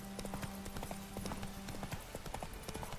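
Roach, the horse in The Witcher 3, gallops with a steady, rapid clip-clop of hooves throughout, close and prominent over a constant low background hum.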